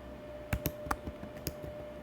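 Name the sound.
typing on a computer keyboard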